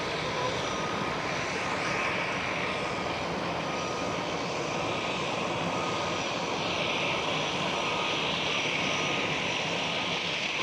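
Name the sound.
Transavia airliner taxiing out at Schiphol Airport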